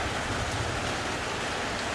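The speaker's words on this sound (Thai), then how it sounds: "ไม่กล้า ขับรถไปตอนฝนตก หนักๆ" Heavy rain pours steadily during a thunderstorm outside a house in the countryside, a dense, constant hiss with a low rumble beneath and no voices.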